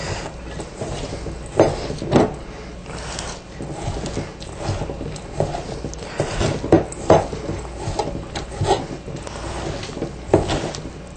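Kofta ingredients mixed in a bowl, with irregular clinks, scrapes and knocks of a utensil against the bowl continuing steadily at close range, no talk.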